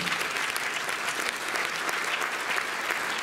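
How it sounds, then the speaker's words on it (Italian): Audience applause for a charity cause at a live show, a continuous thick wash of clapping from a large crowd, steady and fairly distant, with no voices on top. "un grande applauso a questa nobile causa che vi chiedo"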